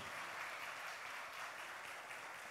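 A church congregation applauding during a service, a steady wash of many hands clapping that is faint and distant, filling the whole moment without pause.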